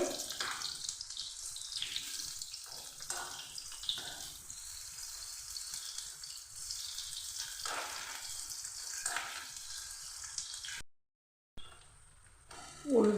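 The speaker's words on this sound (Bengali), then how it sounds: "এভাবে পিস পিস করে উল্টে পাল্টে হালকা করে ভেজে নেব" Pieces of rohu fish fry in hot oil, a steady close sizzle and crackle running throughout, with brief stirring and turning noises, a short gap near the end, then a louder burst.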